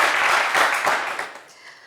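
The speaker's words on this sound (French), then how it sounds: "Awa, on vous applaudit bien fort." A studio audience on a French television game show claps in a short, dense burst of applause that quickly fades away.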